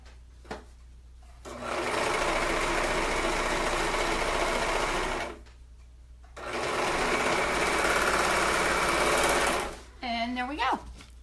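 A sewing machine or serger stitching the edge of a sundress: two long, loud, steady whirring runs separated by a brief pause, close up, with a short voice and faint background sounds at the start and end.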